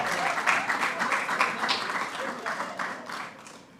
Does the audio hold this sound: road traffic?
no